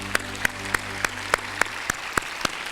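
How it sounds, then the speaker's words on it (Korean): Sharp, evenly spaced claps ring out one after another in a reverberant room at a church worship service, about four per second, fairly loud. "이 밤에 거듭난 경험을 한 이 친구들을 위하여 박수로서 우리가 축하를 드립니다"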